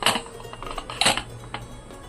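Metal lid being set onto a pressure cooker while steaming dhokla, with two sharp close clanks and a few lighter rattles of metal on metal.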